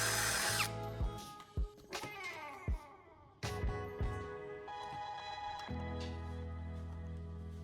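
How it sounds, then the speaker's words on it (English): A handheld power drill with a conical bit works the center hole of an LED board in short bursts, whirring up, stopping and restarting several times close by, ending on a steadier run. "I'm using a drill and a conical drill bit to carefully enlarge the center hole on the LED board"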